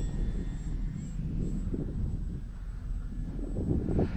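A radio-controlled Tower Hobbies ASW 28 model glider flies under light throttle on its maiden flight in strong wind, giving a steady low motor drone heavily buffeted by wind rumble across the whole clip.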